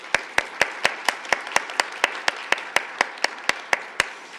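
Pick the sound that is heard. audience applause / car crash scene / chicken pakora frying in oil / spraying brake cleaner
audience applause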